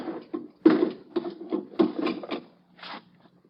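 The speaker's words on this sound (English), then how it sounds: "Just let me slip these bolts." Bolts being slid open on a crate: several grinding, scraping slides and knocks in quick succession, close and moderately loud, with a final softer scrape after a short pause.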